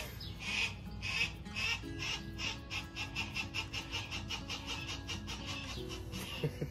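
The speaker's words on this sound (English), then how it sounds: "That's Ahsoka making all those noises" A falconry bird at an Arizona abatement job gives repeated rhythmic calls, a fast series of squawking chirps close by, running steadily throughout without any talk.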